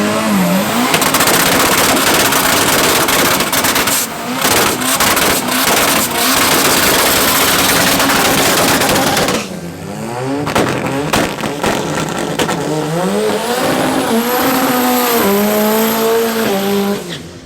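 Front-wheel-drive drag racing cars, among them a Golf, at Midvaal Raceway: loud close engines scream and rev, a tyre squeal cuts in, then a second run rises through roaring gear changes, steady and intense throughout.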